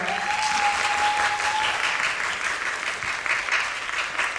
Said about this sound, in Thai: ขอเสียงปรบมือจากสื่ อมวลชนด้วยครับ